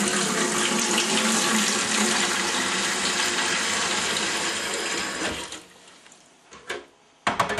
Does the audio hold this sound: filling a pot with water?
yes